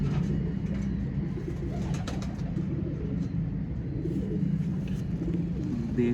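Pigeons coo softly and repeatedly over a low, constant background rumble, with no talking.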